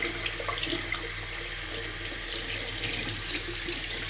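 A tap runs steadily into a sink to wet a shaving brush, giving a continuous close splashing flow with no speech.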